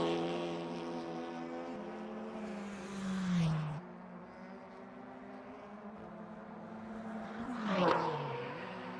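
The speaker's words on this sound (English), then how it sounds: "Hear the noises of the engine. Really noise of the tires screeching about everywhere, pushing them to the absolute limits." Engines of BTCC touring cars in the rFactor 2 racing game at Toban Raceway drone steadily, and two cars rush past with a falling pitch, one at about three seconds in and one near the end.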